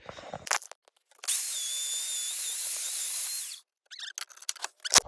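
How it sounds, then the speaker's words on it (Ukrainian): A drill mounted on a drill stand bores into a wooden block, a loud high-pitched whine lasting a couple of seconds between handling clicks and knocks. "ставлю його зараз на стоєчку і будемо сверлити"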